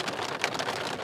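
Rain patters steadily on a camper, a dense even hiss of drops on the roof filling the brief moment with no voices.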